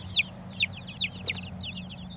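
A Barred Rock chicken clucks in a few sharp, close calls at a steady rhythm, followed by softer chatter against a low background hum.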